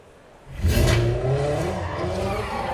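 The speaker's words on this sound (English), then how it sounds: "Ignition simulates our existing petrol engines." A 2024 Hyundai IONIQ 5 N electric car simulating a petrol engine swells up quickly and holds a steady, revving drone, close and fairly loud with a whooshing rise at the start.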